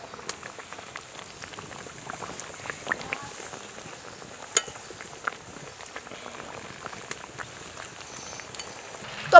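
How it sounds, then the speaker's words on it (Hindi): Papdi frying in oil that is not very hot, a soft, steady crackle of scattered small pops and bubbling throughout, fairly faint, with no talk over it. "अब इसे हम तेल में डाल देते हैं, तेल बहुत ज़्यादा गर्म नहीं है।"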